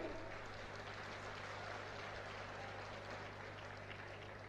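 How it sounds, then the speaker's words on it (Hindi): Crowd applause at a Rajasthan election rally, a dense steady wash of clapping from many hands throughout, distant and even, with a low hum underneath. "बजाइए ताली।"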